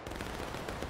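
A musket volley fired by a line of soldiers in the video game War of Rights, a dense, crackling burst of overlapping shots filling the whole moment with no pause.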